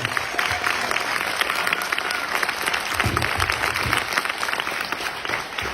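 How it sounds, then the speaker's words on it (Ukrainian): An audience at a film screening bursts into sustained applause and ovation, dense steady clapping from a large crowd that fills the whole stretch, loud and close. "але овації не всипають"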